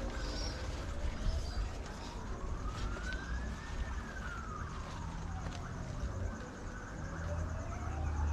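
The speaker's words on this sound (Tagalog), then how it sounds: "maingay po ang bumbero, mga pulis." Police and fire truck sirens wail, slowly rising and falling in pitch, somewhat distant over a constant street rumble in Sydney.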